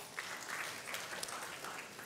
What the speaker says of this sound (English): join me in giving them a final flourish of applause